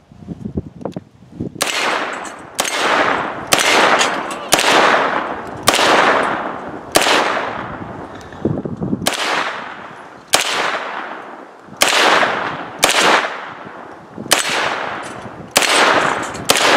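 Eleven or so loud 9mm pistol shots with Fiocchi 115 grain ball ammo fired at golf balls outdoors, each a sharp crack with a ringing tail, spaced roughly a second apart with irregular gaps.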